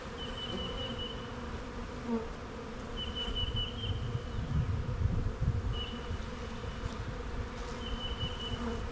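Honeybees buzz in a continuous droning swarm during a hive inspection, with individual bees passing close and whining higher now and then over the steady low hum.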